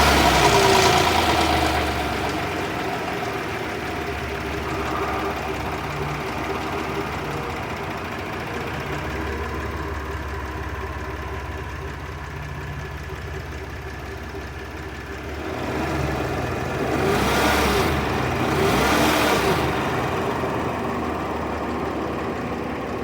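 A 2014 Hyundai Santa Fe at a scrap yard starts with a loud initial burst, then settles into a steady, even idle, with a slight rise in engine noise later on.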